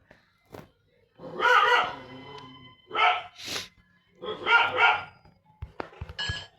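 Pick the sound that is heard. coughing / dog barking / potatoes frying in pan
dog barking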